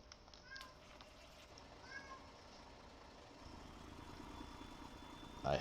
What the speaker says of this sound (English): I have a noisy cat in the house.